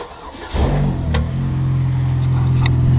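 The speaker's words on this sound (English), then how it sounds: "I've cut the muffler off. Let's see what it sounds like." A race car engine with its muffler cut off cranks and fires up, then settles into a loud, raw, rumbling idle with rising revs, close by.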